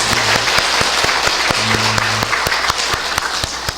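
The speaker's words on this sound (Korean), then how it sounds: "하나님께 영광의 박수를 드리겠습니다" A church congregation at a Sunday worship service applauds together, a loud, dense wash of clapping with a few sharper individual claps standing out, steady throughout.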